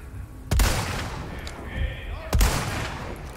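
Gunfire in the video game Resident Evil 4 Remake: two sharp, booming shots about two seconds apart, each followed by a rumbling tail over a dense background of game ambience.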